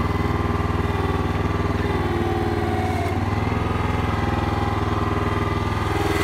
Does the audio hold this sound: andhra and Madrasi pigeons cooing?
no